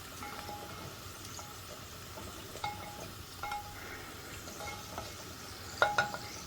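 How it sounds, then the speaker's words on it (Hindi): Paneer cubes with capsicum and onion fry in a clay pot, giving a faint, steady sizzle broken by a few soft clinks and scrapes. No one speaks. "तो हमारी इस साइड पे पनीर फ्राई हो रही है और उधर हमारे कैप्सिकम और अनियन फ्राई हो रहे हैं।"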